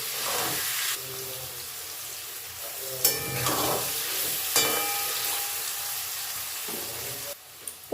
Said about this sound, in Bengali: পনিরটা একটু গোল্ডেন করে হালকা করে ভেজে নিতে হবে